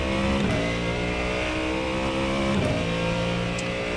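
Ford Mustang GT3 race car engine in the iRacing sim at Silverstone, revving hard and steadily throughout with a strong, continuous drone and gear-change dips as it pulls, no talking.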